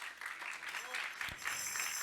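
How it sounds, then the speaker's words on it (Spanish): A church congregation claps together during a Spanish-language sermon, a dense, steady wash of hands that is fairly faint and continuous for about two seconds. "Dale palmas al Señor."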